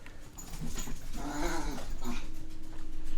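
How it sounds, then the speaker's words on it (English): Dogs whine and yelp excitedly, with a rising whimpering cry in the middle over steady background noise, close by. "Sorry for my dogs, they're just hyper as hell."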